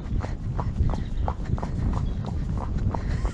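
A young horse on its first ride under saddle walks with a steady clip-clop of hooves, close and clear, the even four-beat footfalls repeating throughout with no talk over them.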